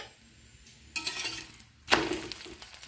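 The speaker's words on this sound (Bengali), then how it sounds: "আমি ঘি দিয়ে ভেজে নেব।" A paneer paratha fries in ghee on a pan with two bursts of sizzling and scraping, the second louder, over a quiet kitchen background.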